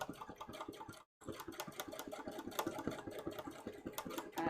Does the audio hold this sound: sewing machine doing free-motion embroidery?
yes